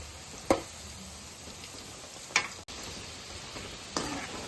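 Chicken pieces for dragon chicken sizzle in a pan on the stove, a low continuous hiss marked by three sharp crackling pops spread across the stretch.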